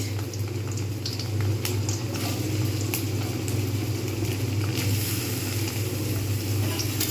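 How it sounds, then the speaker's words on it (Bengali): Onions frying in hot oil for begun bharta, giving a steady, close, bubbling sizzle that holds without a break, with a few small crackles and pops on top. "পেঁয়াজগুলো আমি ভালো করে ভাজতে থাকবো হালকা ব্রাউন হবে"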